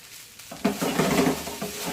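Vegetable fried rice seasoned with Chinese salt frying in a pan, a soft steady sizzle with light scraping and stirring clatter rising after a quiet start and continuing throughout.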